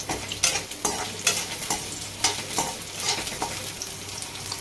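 Onions fry in hot oil in a pan, a steady sizzle broken by repeated scraping strokes of a spoon stirring them, close and fairly loud with no talking.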